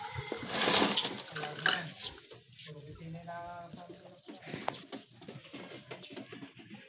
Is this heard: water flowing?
no